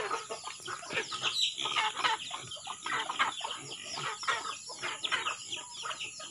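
Chickens cluck continuously in a busy chorus, close and fairly loud, with overlapping calls and a faint steady hum behind them.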